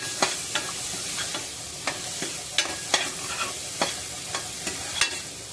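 Black-eyed peas are sautéed with masala in a pot, a spoon scraping and knocking at a regular rhythm over a steady low sizzle, close by and without talk.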